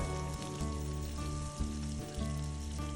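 Crushed garlic and cumin fry in oil for a ridge gourd kuzhambu, a soft steady crackling sizzle close by, with a low steady hum running underneath the whole time.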